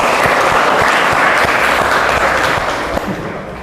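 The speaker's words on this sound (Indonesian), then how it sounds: "Jadi kita aplaus lagi sekali untuk penampilan." Students in a classroom clap after a group performance, dense steady applause filling the room, loud and close, sustained throughout before easing slightly at the end.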